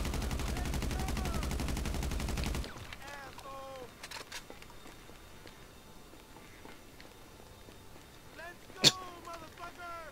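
Gunfire in the online mode of the video game GTA V: a dense, rapid burst of automatic fire, then sparser scattered shots and one sharp loud crack near the end, with a voice talking in places.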